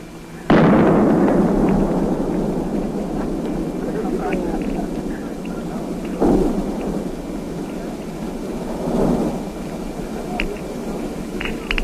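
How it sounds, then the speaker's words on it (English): An atomic bomb detonation in a 1952 continental test booms suddenly, then a long rolling rumble follows with further deep thuds as the shock wave arrives, loud and reverberant throughout. "The first public demonstration and the biggest continental atomic detonation in the history of the world."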